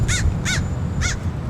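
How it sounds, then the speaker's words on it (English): Crows caw near LAX airport: three loud, harsh calls close by, two in quick succession then a third after a short gap, over a low background rumble. "It's so quiet you can hear the birds."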